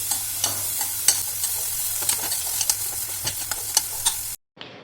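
Onions sautéing with salt in a pan for a cauliflower dish, a continuous close sizzle with frequent scraping stir clicks, cutting off abruptly near the end.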